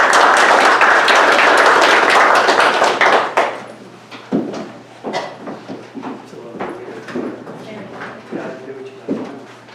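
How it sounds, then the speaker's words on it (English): A township board of supervisors meeting gives a speaker a round of applause: dense clapping from a small room for about three seconds, then it thins into scattered claps, shuffling and muffled voices. "A round of applause for Mr. Booz."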